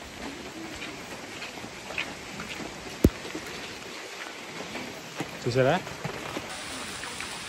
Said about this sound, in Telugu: మళ్ళీ వర్షం స్టార్ట్ అయిపోయిందండి, మామూలుగా ఉండదు.